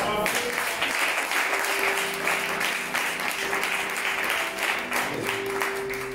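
A church congregation applauding: steady, dense clapping from many people filling the room, with scattered voices over it and a sustained organ-like tone underneath.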